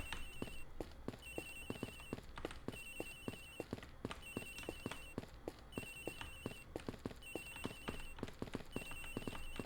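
Repeated electronic telephone ringing in the Ace Attorney Investigations video game, regular trilling bursts alongside a steady clicking rhythm like footsteps, moderately quiet throughout.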